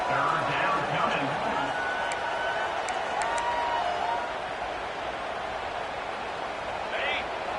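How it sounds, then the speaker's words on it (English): A stadium crowd at a college football game between Vanderbilt and South Carolina sends up a broad, sustained roar. A broadcast commentator talks over it throughout, with faint whistles and brief tones cutting through. "The roar of the crowd trying to fuel this defense to keep them pinned in their own end."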